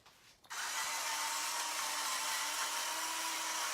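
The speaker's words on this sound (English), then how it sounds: "I'm just gonna estimate this because I've got a grinder here." A grinder grinding black pepper starts abruptly and then runs as a steady, close, even whirring hiss with no voices.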